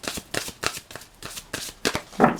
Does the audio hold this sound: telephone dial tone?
no